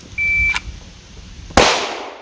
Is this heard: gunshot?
yes